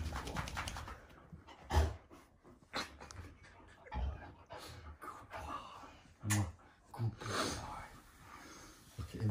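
Huskies pant and snort close by in bursts of heavy breathing, with sharp snorts and faint whimpers at irregular intervals. A person speaks softly now and then.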